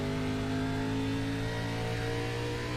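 The engine of a 1997 Earnhardt Goodwrench stock car runs in iRacing at Bristol with a steady, sustained drone and no talk over it, holding at near-constant revs.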